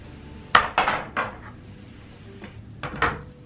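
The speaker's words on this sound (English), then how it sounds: "So I'm going to basically screw this in" Plastic parts of a kids' 2-in-1 Lego activity table knock and clatter while being lined up and screwed together, a quick burst of three sharp clunks followed by a couple of softer knocks, close by with no talking.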